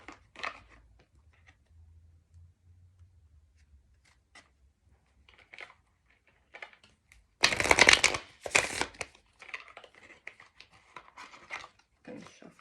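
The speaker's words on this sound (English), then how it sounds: "I'm gonna shuffle the deck." A deck of oracle cards is shuffled close up, quiet riffles and taps early on, then a loud burst of rapid shuffling midway followed by softer card handling.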